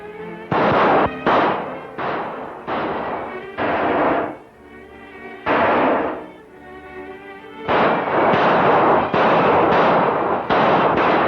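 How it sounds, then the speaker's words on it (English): Several men fire guns while shooting up the west end of a town in a 1938 western, producing a rapid, uneven string of loud, echoing gunshot bursts with only brief gaps. "Why, they're shooting up the whole west end of town."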